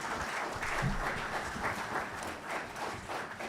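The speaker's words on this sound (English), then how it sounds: "All right, so one more round of applause." Faint, distant round of applause from the audience at a climate fellowship award ceremony, soft continuous clapping throughout.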